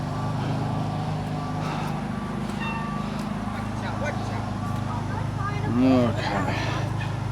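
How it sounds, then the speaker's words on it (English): A garbage truck drives past outside a residential driveway, giving a steady low engine rumble that carries on throughout, with a brief rising mechanical whine near the end. "It sounds like a trash truck."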